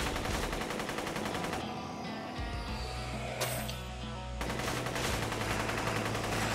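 Gunfire in the zombie shooter Guns'N'Zombies, with rapid machine-gun bursts in a fast, steady rhythm that break off briefly and then resume, loud and continuous over a mechanical background.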